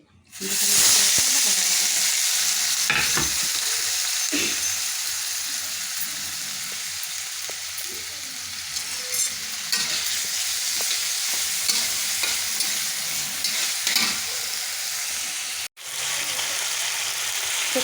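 Tempering sizzling in hot ghee in a pan, a loud close crackling hiss that runs continuously while a spoon stirs through it, with scattered scraping clicks and a brief break near the end.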